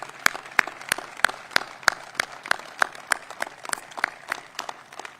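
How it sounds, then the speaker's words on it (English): A crowd at an outdoor ribbon cutting for a new public safety training center in DeKalb County claps in a steady rhythm of crisp, evenly spaced claps, fairly near and moderately loud, for about five seconds. "Let's give them a round of applause for that."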